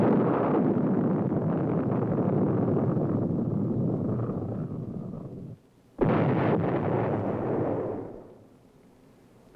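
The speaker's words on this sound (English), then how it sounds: "This firing utilizes a conventional warhead." A Sergeant solid-fuel rocket with a conventional warhead launching: a sustained loud roaring blast that fades, cuts out briefly, then roars again and trails away into quiet.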